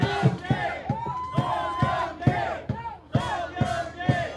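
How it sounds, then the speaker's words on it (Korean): Crowd at an outdoor Korean political rally beneath an overpass greets Song Young-gil with loud, rhythmic shouted cheers and chanting voices in repeated bursts, close and forceful, with little distinct clapping. "큰 박수로 모시겠습니다."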